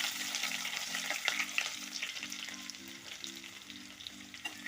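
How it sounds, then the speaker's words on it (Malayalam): Crushed ginger and garlic frying in hot oil in a pan for a fish curry, with a steady close sizzle, a spoon scraping and stirring through it, and a low cooking-burner hum beneath, no voices. "അതിലേക്ക് നമുക്ക് ചതച്ച് വെച്ചിരിക്കുന്ന ഒരു കഷ്ണം ഇഞ്ചി, ഒരു 5-6 വെളുത്തുള്ളി ചതച്ചതുകൂടെ ചേർത്ത് ഒന്ന് ഇളക്കി കൊടുക്കാം."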